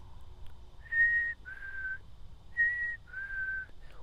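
A person whistles an imitation of a chickadee call: four clear, steady whistled notes in two pairs, each pair a higher note followed by a slightly lower one, close and fairly loud over faint background hum.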